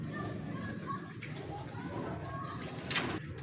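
Baby high-flyer pigeons cooing softly in a steady low murmur, close and continuous, with faint background noise and talk nearby.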